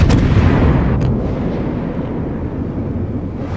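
Warship main guns firing in the World of Warships game, a loud booming salvo that rolls out into a long, heavy rumble and slowly fades, with a second thud about a second in.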